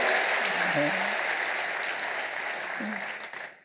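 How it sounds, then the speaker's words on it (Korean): A church congregation applauds newly baptized members, a steady wash of clapping with a few brief voices rising over it, tapering off at the end. "큰 박수 보내주시길 바랍니다."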